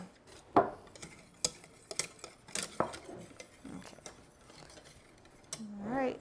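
A utensil clinks and scrapes in quick irregular strokes against a pie pan while cornstarch and sugar are whisked into a paste, close and fairly quiet, with brief talk in the background.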